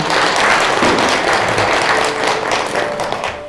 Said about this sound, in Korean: 이재현 교수님께 감사의 큰 박수 다시 한번 부탁드립니다